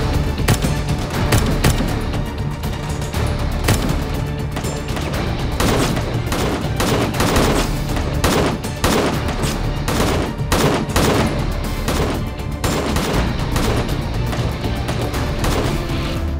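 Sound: gunfire

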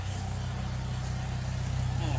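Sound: car engine idling, exhaust note

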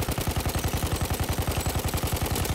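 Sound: enemy machine gun firing in a first-person shooter video game

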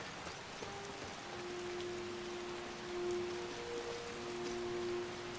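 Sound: rain falling in the video game Skyrim

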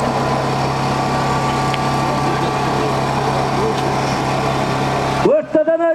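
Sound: tractor engine at a kopkari event

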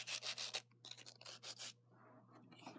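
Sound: filing fingernails with a nail file

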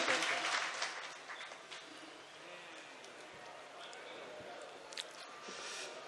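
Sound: audience applause at a poetry recital (mushaira)

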